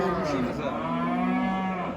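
A cow at a livestock market in Sorgun lets out one long, loud, close moo that holds steady for about two seconds.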